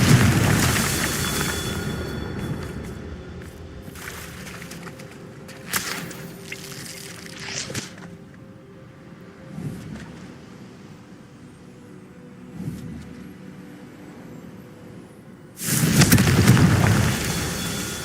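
Confringo fire spells explode in a Harry Potter video game: a loud booming blast opens, scattered thumps and crackles follow through a quieter stretch, and a second heavy roaring explosion hits near the end, with no talking.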